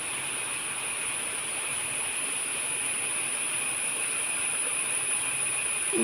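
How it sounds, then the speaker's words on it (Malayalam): Heavy rain keeps up a constant, even roar of falling water, loud and close, with a faint steady high whine behind it and nobody speaking. "എന്താ നല്ല മഴ."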